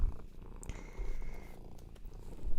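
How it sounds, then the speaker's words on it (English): A cat purrs close by, a low rhythmic rumble with a few soft rustles mixed in. "Sounds like a nutmeg grinder when she purrs"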